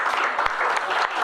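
Applause from a small audience at a library reading event, a steady dense patter of many hands held at an even level for just over a second, with no talk on top.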